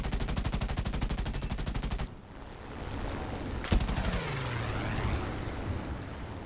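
A P-51D fighter fires its guns in War Thunder arcade combat in a fast, steady burst. The burst stops abruptly, then a sharp hit is followed by a sustained engine roar and a falling whine.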